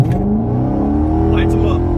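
A car held in first gear revs hard for a burnout on Arturo AZ850 DR tires, a loud, close engine roar climbing steadily in pitch from start to finish, with a hint of tire squeal blended into the drone.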